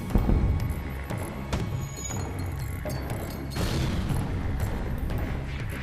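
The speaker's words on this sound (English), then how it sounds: "Let's keep shooting on the sensor." Spaceship weapons firing in the FTL video game during a losing battle: a run of loud booming shots and crashing impacts, several sharp hits spread across the stretch over a steady mechanical hum.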